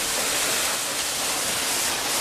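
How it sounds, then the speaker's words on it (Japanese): Waterfall on a mountain hiking trail near Arima, a loud steady rush of falling water filling the air without pause. "ボーダーの滝。"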